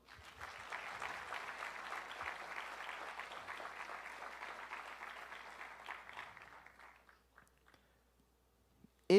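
A church congregation applauds during a sermon, a steady wash of clapping at moderate level that thins out and fades to scattered claps, then silence before a brief sharp sound at the very end.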